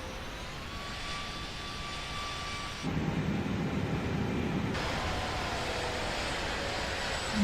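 Airliner engine spooling up in Microsoft Flight Simulator 2024 after a near stall, a steady jet roar that swells louder partway through and holds, alone with no talk.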